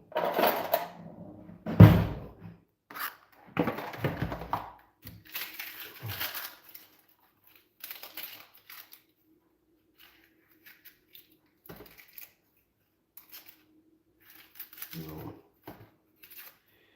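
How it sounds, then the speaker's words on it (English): A knife chops an onion on a cutting board with irregular, close knocks, busy at first and then sparser, while a person talks in between the cuts. "I go ahead and cut my onion."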